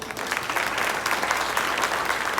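Steady applause from a crowd at a live music competition event, dense clapping filling the whole stretch at an even level with no voices on top.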